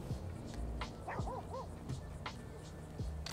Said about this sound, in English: I heard a dog. This is a different type of dog.